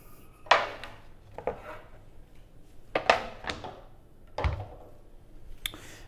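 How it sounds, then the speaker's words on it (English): A 20-ounce CO2 tank with a threaded adapter screwed into a SodaStream soda maker, giving a few separate dull thunks and scraping twists spaced over several seconds, close by and without talk. "And finally, we screw our adapter and tank into the SodaStream."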